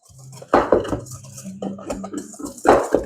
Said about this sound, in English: A good old whisk.